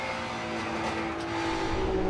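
Race cars on a circuit, a Porsche GT4 tucked in behind an Audi RS3, heading into a turn at a Labour Day sprint race, with a steady, droning engine roar from a distance that builds slightly toward the end.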